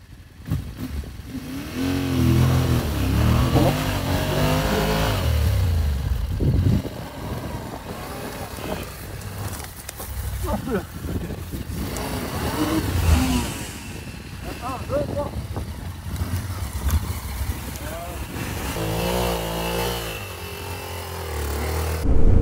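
A motorcycle engine revs hard and unevenly while climbing a difficult obstacle, loud and close, with repeated throttle bursts as people talk over it.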